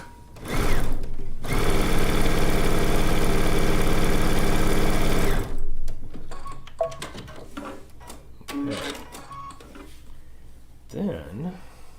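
A sewing machine runs in one steady, loud burst of rapid needle stitching while two quilt units for a zig zag quilt are joined, then stops abruptly, followed by quieter handling sounds and a voice speaking.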